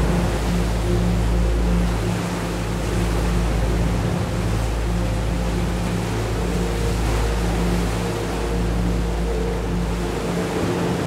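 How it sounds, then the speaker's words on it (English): A constant roar of sea surf breaking against rocks on the coast of Runde island, Norway, fills the scene, broad and rushing, with a deep low hum running beneath it. "Far below, the sea breaks against the rocks, a roaring rhythm"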